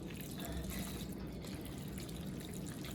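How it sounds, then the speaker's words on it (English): Creamy nacho cheese sauce being stirred, giving a steady close wet squelching and sloshing texture that continues without breaks and without talking. "we're going to stir this up. Y'all hear how moist and creamy it is?"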